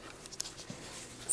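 A pencil scratches and taps on paper during a lecture on tidewater glaciers, with faint, quiet strokes and small clicks, close by, with no talking.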